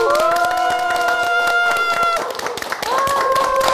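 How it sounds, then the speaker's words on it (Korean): A lecture audience claps steadily to welcome a speaker, the applause loud and sustained, with sustained musical tones ringing over it. "여러분 박수로 한번 모셔볼까요?"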